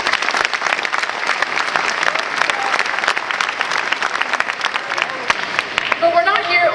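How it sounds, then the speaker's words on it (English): Audience applause fills a graduation ceremony, dense sustained clapping from a large crowd throughout, easing slightly at the end as a voice begins. "please give them a warm round of applause"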